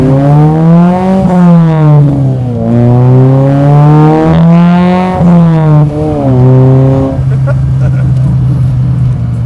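A loud non-turbo Honda Type R engine in a classic Mini revs up and down repeatedly, pitch climbing and falling in several swells before dropping back to a steady drone.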